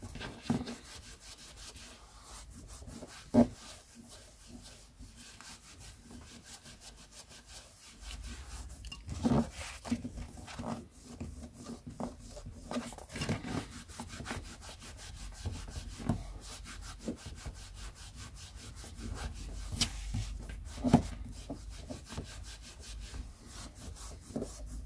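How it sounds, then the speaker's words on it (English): A cloth rubbing cleaner into a collectible TV and film tie-in figure, close soft scrubbing strokes repeating steadily for a long stretch, with occasional light knocks from handling. "and then rub the cloth in"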